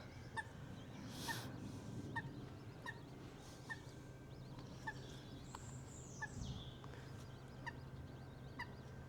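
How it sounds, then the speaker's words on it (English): Outdoor birdsong with soft repeated calls and chirps over a low background hum; geese with goslings call, coming and going at moderate distance. "There's some geese coming"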